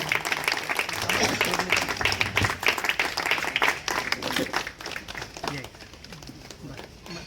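Applause rises from the audience at a book launch ceremony, dense clapping mixed with crowd voices and talk, loud at first, then thinning and fading toward the end.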